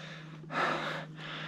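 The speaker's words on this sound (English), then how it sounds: "I just cannot stop from breathing faster than I want to." A cyclist climbing at high elevation takes one loud, heavy breath, a sharp gasping inhale followed by a softer exhale, close to the microphone.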